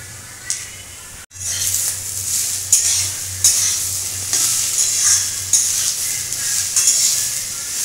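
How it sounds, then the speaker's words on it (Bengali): Ginger and green chilies fry with potatoes in a pan for singara, a loud steady sizzle close by with stirring scrapes throughout after a brief drop at the start. "আলুর সঙ্গে আমি এই আদা কাঁচা লঙ্কা খুব ভালো করে ভেজে নেব।"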